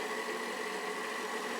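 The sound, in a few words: stand mixer with paddle attachment blending quinoa potato pizza dough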